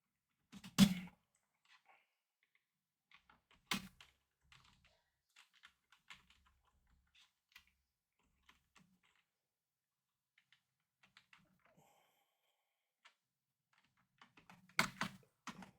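Sparse typing on a computer keyboard: scattered soft key taps spread across the stretch, with a few louder thumps near the start and end, all quiet and close with long gaps between.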